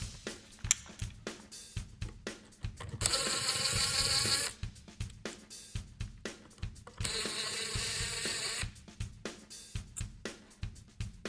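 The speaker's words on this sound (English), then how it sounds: "Now let's remove these 2 screws" Screws being removed from a Bigsby guitar tailpiece, soft close clicks and ratcheting taps broken by two sustained whirring bursts of a few seconds each, quiet and close with no talk.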